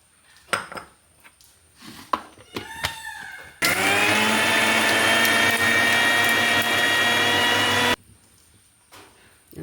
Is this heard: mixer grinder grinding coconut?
yes